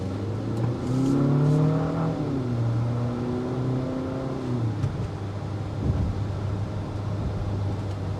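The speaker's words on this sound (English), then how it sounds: "Not a huge fan of that drone engine note that comes into play" A 2025 Infiniti QX60 Luxe with a 268-horsepower VC turbo engine accelerates hard in sport mode, its droning engine note climbing through gears with smooth pitch rises and shifts, heard from inside the cabin, steady and moderately loud.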